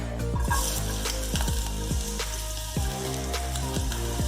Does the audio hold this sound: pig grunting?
no